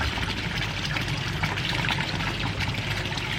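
Water flows steadily from a pond return over a sedated koi's gills, a continuous close splashing trickle with no talking.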